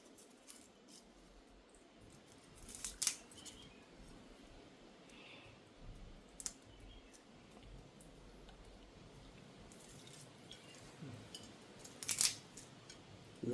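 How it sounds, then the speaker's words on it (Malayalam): Dried red chillies are snipped with scissors in a home kitchen, a few sharp separate cuts spaced several seconds apart over quiet room tone, near and fairly faint, with no talking. "2-3 മുളക്, വറ്റൽ മുളകും കൂടെ നമുക്ക് മുറിച്ചെടുക്കാം."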